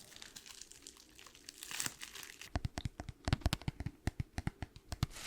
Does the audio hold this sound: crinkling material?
yes